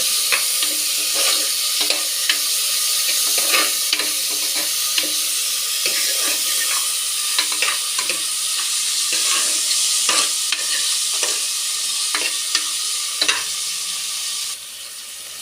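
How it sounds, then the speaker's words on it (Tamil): Chopped tomatoes and onions sauté in a pan for a cabbage kootu, with a loud continuous sizzle and frequent sharp spatula scrapes and clinks throughout. Up close and without voices, the sizzle drops slightly in level near the end. "இந்த ஸ்டேஜில் நம்ம கட் பண்ணி வச்ச தக்காளியை போட்டுக்கலாம் இப்போ இந்த தக்காளியையும் நல்லா வதக்கிடுங்க"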